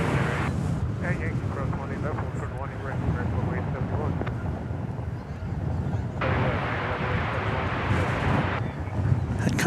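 Jet airliner taking off at DFW Airport, a continuous loud roar with wind buffeting the microphone, holding steady across the whole stretch.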